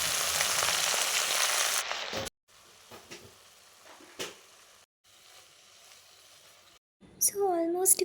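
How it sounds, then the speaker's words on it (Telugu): Ponnaganti (amaranth) leaves frying in a pan, a loud sizzle at the start that cuts out into quiet stirring, with a voice talking near the end. "ఇప్పుడు మన మెయిన్ క్యారెక్టర్ పొనగంటి ఆకును వేసుకొని వేపుకోవాలి"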